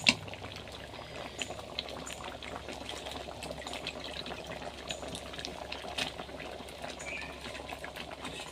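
Lentils and jackfruit seeds simmer in a pot, a steady low bubbling that stays even and continuous throughout, moderately quiet, with no voices.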